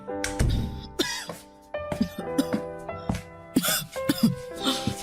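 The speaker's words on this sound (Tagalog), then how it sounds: "ang tindi ng ubo niyo." Heavy, repeated coughing and throat clearing from an older woman, loud and close, in harsh bursts separated by short pauses.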